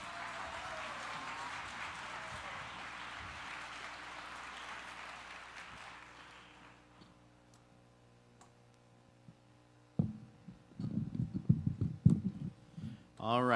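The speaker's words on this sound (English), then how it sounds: "let's give her a round of applause" Audience applause fills a large room at an employee kick-off celebration, a steady crowd clapping for several seconds before thinning out and fading, then a pause before a voice begins speaking.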